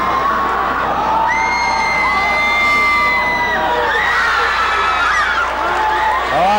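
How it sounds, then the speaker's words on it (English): Spectators pack the stands at a 2003 high school basketball game between Northview and Dothan, screaming, whooping and cheering loudly and without a break, with shrill shouts rising above the roar. "They're screaming now, and the Tiger side was screaming."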